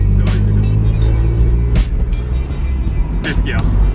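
A Toyota MR2 fitted with a short shifter runs steadily, its engine rumbling loud and close as the driver works up through first to fourth gear, with brief sharp bursts between shifts and a person talking over it.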